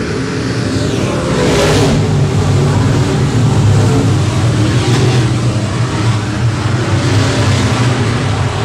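Race cars roar around the Timberline Speedway oval, a loud continuous blend of engines revving through the turns with a passing surge of one car nearby over the steady pack noise.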